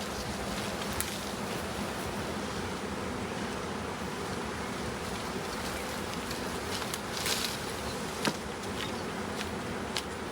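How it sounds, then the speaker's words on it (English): Swarm of honey bees buzzing steadily in a dense, continuous drone around a hive being set up after capture, with a few brief louder passes near the end. "So those bees you see flying out in front right now are just saying, hey, you know, we live here"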